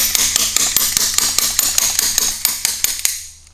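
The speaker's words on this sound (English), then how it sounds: "you shouldn't put a slide hammer to a crank ever" Slide hammer pulling a part off an engine crankshaft in a Nissan 240SX, a rapid series of sharp metallic knocks at a steady rhythm, close and loud, ending in a final clank.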